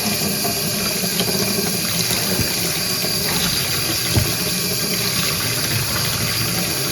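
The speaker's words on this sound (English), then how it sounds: "I'll just keep washing it through until this water runs clear" Steady running water splashes continuously as dyed yarn is rinsed, with occasional squelches and small knocks, close by and fairly loud, no voices.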